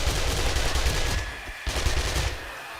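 Rapid automatic fire from a tier 5 gun in 7 Days To Die, loud bursts of rattling shots with a brief gap midway, then another sustained burst that tapers off.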